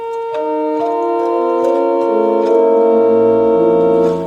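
A pipe organ plays on a principal 8' stop with the pedal principals in a sustained, legato chord progression, full and resonant, a deep bass line entering toward the end.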